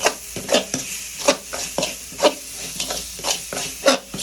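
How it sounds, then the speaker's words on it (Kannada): Chicken frying in a pan with garam masala as a bachelor-room dinner, a rhythmic series of close scraping stirs over a steady sizzle and hiss, with no talking. "ಫುಲ್ ಅಲ್ಲಾಡ್ಸ್ಬೇಕು, ಫ್ರೈ ಆಗೋದು."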